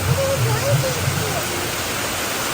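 Steady, dense rain pours down as an unbroken wash of noise, loud and close throughout, with a voice heard briefly near the start.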